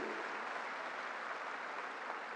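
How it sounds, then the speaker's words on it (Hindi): Sustained applause from a large audience in an auditorium at a formal public event, a dense, even wash of clapping held steady from start to end with no voices over it. "जोर से जरा ताली बजाइए राम बहादुर जी के लिए"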